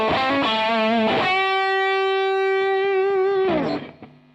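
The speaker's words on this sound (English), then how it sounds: "If I put like a tube screamer in front of it" An electric guitar driven through a Tube Screamer overdrive pedal into a Divided By 13 RSA23 amp plays a few distorted notes, then holds a long sustained note that rings out and fades, played alone and close.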